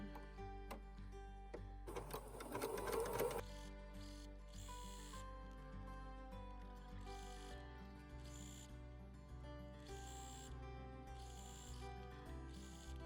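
A sewing machine stitching a romper seam gives one dense whirring burst of stitching, followed by softer intermittent mechanical clicks and short runs.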